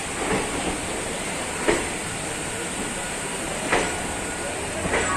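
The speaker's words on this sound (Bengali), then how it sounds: "ট্রেন ছেড়ে দিল" A steady rumbling roar of a train departing Howrah station fills the space, with a few sharp clanks and thumps at intervals and no talking.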